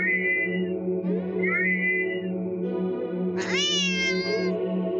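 A cat meows repeatedly in the horror video game Do NOT Take This Cat Home, drawn-out wavering cries over a steady droning music bed, ending in one loud, high, warbling yowl.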